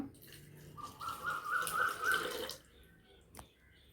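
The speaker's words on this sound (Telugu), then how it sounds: "మజ్జిగ అయితే పోస్తున్నాను" Buttermilk poured over rice for buttermilk rice, a soft steady liquid stream that runs for about two seconds and then stops, followed by a faint clink, with no talking.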